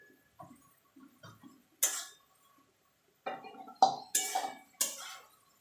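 A spoon scrapes and taps in a pan of spiced boiled potato and tomato for a mourola fish curry. The sounds come as sparse, close clinks and scrapes with quiet gaps between them.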